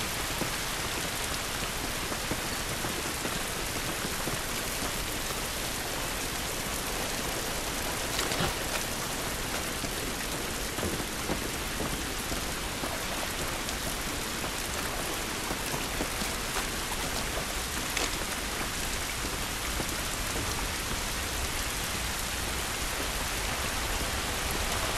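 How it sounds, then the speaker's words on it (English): Steady, dense rain falls outdoors in The Last of Us, a constant hiss that stays even and loud through the whole stretch with no voices over it. "This rain ain't gonna do us any good."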